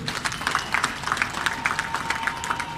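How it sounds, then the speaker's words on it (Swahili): An audience at a public ceremony applauds partners for several seconds, with dense, steady clapping at moderate volume and no break. "Tuwapige makofi wabia wetu"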